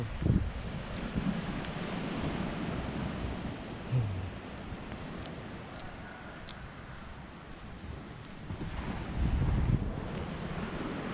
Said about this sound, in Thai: คลื่นแรงครับ